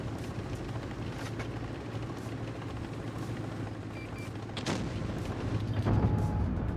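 Tank cannon fire in WoT Blitz during an American tank event, a few distant booms rising out of a continuous low engine rumble and battle ambience, with a sharper blast around the middle.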